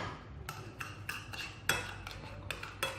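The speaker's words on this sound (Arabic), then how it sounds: "بالبداية نخلي البيضتين والشكر نخلطهن" Two eggs and sugar whisked together in a bowl for basbousa batter, a soft steady scraping and swishing with faint utensil clinks against the bowl, close and alone without talk.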